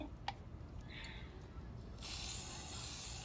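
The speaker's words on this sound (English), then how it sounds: "start spraying the frame in this clip here." A spray paint can hisses steadily onto a frame, a faint start followed by a sustained, louder spray burst near the microphone.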